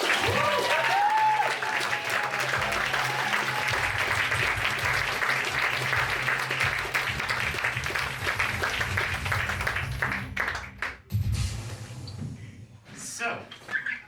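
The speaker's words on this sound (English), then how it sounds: "Big applause for Roy Hammer" An audience at a science slam in Villach breaks into loud, sustained applause that fades toward the end, with scattered voices and movement noise underneath.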